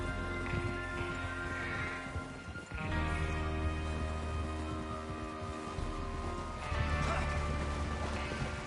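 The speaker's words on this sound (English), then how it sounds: "Get your horses ready." Horse hooves clip-clop at a steady gallop in the Red Dead Redemption 2 video game, continuous and fairly close, blended with other layered game sounds and a brief dip near the middle.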